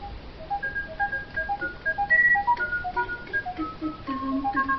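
A ringtone plays on a Sagem mobile phone as a bright, tinny melody of quick repeated notes. It rings moderately loud and alone, with no one speaking.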